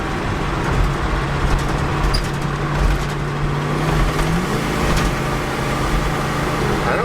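A 1977 Chevrolet Blazer truck with a four-barrel carburetor runs steadily, its low engine hum holding constant before a slight rise in pitch near the end.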